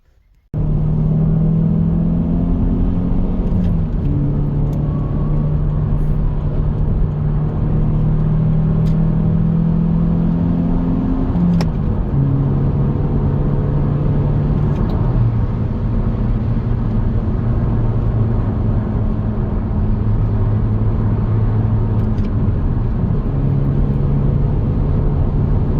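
2003 Toyota Matrix fitted with a quick shifter, driving along with a loud, steady engine drone inside the car. The pitch climbs and drops in steps as it moves through several gear changes.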